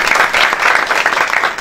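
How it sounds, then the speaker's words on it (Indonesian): Lively congregation applause during a Christian sermon, a bright, dense patter of many hands clapping in quick uneven rhythm, close and fairly loud throughout. "Berikan tepuk tangan ya buat Tuhan."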